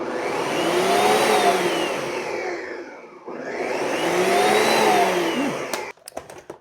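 A food blender whirs through kraut dip with extra virgin olive oil in two steady spinning runs, pitch rising and falling, a short gap between them, then a few clunks as it stops.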